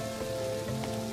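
Rain falls as a sound effect in a children's weather lesson, a steady hiss of drops on a surface with a faint tonal backing underneath.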